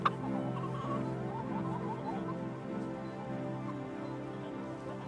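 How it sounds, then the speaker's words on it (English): Chickens cluck and murmur on a farm in a steady, busy flock chatter that runs without a break, moderately loud and close, with no speech over it. "There are lots of birds on farms too, such as turkeys, ducks and chickens."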